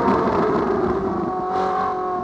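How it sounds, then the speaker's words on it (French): A loud, close Ferrari engine on its stock exhaust, with strong harmonic tones, revving and shifting pitch as it drops gears, running continuously. "Ah, j'adore ce bruit quand tu descends les vitesses."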